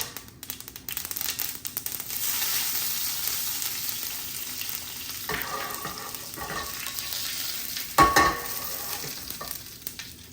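Sesame seeds and curry leaves fry in a pan with a constant loud sizzle and crackle, with a few spatters and stirring scrapes toward the end, all close by and with no voices.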